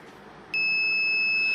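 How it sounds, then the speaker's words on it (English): The buzzer on a prototype line-following robot that carries an LPG cylinder sounds when its load weighs under 2 kg. It gives one sudden, loud, steady high-pitched tone that holds without a break, and nobody speaks. "buzzer is buzzing because the weight is below 2 kg"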